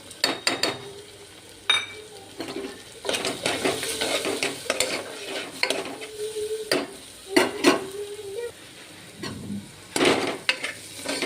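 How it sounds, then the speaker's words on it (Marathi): Kolhapuri mutton masala fries in oil with tomatoes in a pan, sizzling softly while a spoon stirs and scrapes it in repeated strokes. A voice speaks intermittently over the cooking. "इथे हे मसाला थोडासा भाजला त्याच्यामध्ये आपले गरम करायचं असतात त्याच्यामध्ये थोडासा तेलात परतवून घ्यायचं"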